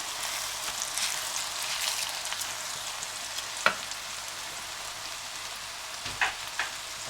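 Washed rice fries in ghee and oil with bay leaves and cardamom, giving a steady, moderate hiss with a few clicks and stirring knocks near the end, no voices.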